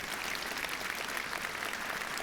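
A church congregation applauds in a dense, steady patter of many hands clapping at once, moderately distant and without pause.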